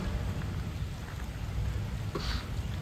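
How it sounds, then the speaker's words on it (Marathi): Steady rain falling, a continuous dense patter with a low rumbling backdrop and no voices. "आणि थोडं पाऊस पडतोय पावसातून फिरतोय"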